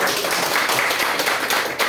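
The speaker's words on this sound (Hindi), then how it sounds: "प्लीज जोरदार ताली" A crowd at a DXN class event gives dense, continuous applause for the host. The many overlapping claps blend into a loud, steady wash throughout.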